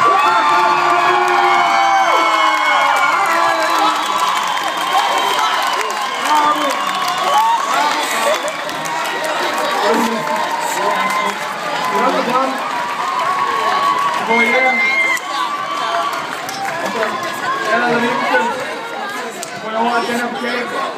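An audience at a school talent show cheers, whoops and claps loudly and steadily after first place is announced, with children shouting and people chattering in the mix throughout.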